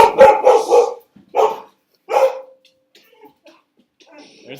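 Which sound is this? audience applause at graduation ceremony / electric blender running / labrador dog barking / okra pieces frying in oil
labrador dog barking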